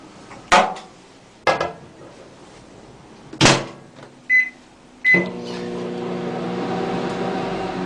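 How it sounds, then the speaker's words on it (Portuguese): A microwave oven is loaded with cold water: several sharp door clunks and knocks, two short beeps, then the oven starts and settles into a steady humming drone that runs to the end. "Na hora que eu colocar dentro do forno,"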